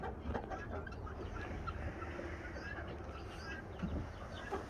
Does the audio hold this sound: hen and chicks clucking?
yes